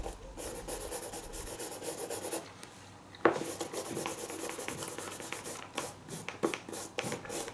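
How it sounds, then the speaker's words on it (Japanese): A brush lightly sweeps over a blue Adidas Copa 20.1 football boot of premium kangaroo leather, producing soft, repeated scratchy rubbing strokes, close and quiet with short pauses between passes. "軽くブラシかけてます。"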